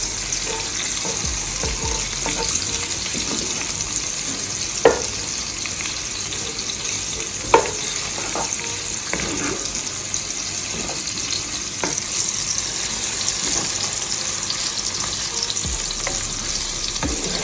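Onion, scallion, garlic and a piece of hot pepper frying in a pan, a loud, even sizzle with scattered spatula clicks and two sharper taps, close up and with no talking.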